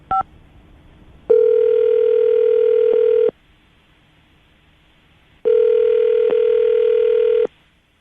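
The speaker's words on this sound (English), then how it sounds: "I'm going to dial the phone number right now" A telephone line plays a quick burst of touch-tone dialing, then two long, steady ringback tones separated by a silent pause, clear and close with no voices.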